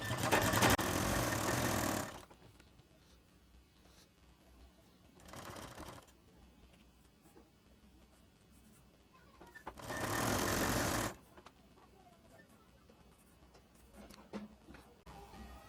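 An electric sewing machine stitches a baby shirt in three bursts, a long one at the start, a short one, then another. Each gives a rapid, loud whirr, with quiet pauses between the runs.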